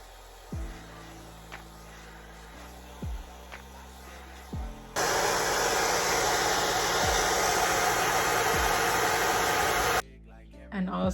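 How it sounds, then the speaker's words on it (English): Hair dryer blowing on a wig cap, a steady loud whooshing roar lasting about five seconds after a few quieter clicks and thumps, then cutting off abruptly. "So I recommend using the dryer."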